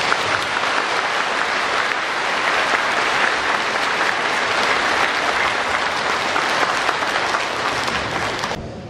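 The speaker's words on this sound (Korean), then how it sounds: "큰 박수 부탁드립니다" Sustained, loud applause from a congregation at a Catholic thanksgiving Mass celebrating a priest's silver jubilee, steady dense clapping for about nine seconds before tapering slightly at the end.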